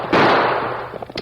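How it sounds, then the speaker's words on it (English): A radio drama gunshot sound effect in a Lone Ranger chase: one loud, sharp crack that decays quickly, followed by a few smaller pops and clicks. "In spite of the bullets fired his way, the Lone Ranger continued to follow."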